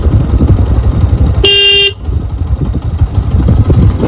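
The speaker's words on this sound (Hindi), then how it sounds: "कई बार गाड़ी वगैरह आ जाती है यहाँ से ना, तो हॉर्न वगैरह बजाना जरूरी" A vehicle horn blares on a village road near Koldam, one steady honk of about half a second cutting loudly over the low rumble of passing traffic.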